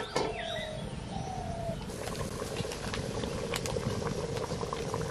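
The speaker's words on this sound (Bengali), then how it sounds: "জল দিয়েছি, জলটা জাল হওয়ার জন্য 5 মিনিট ঢাকা দিয়ে দেবো।" Egg and chicken curry simmering under a lid in a covered pot, a continuous dense bubbling boil, close and even throughout, with faint bird calls in the background.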